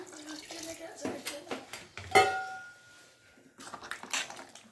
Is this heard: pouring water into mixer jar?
yes